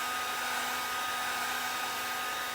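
A heat tool blows steadily while setting StazOn ink stamped on metal, a constant close whirring hiss of hot air with a faint steady hum and no pauses.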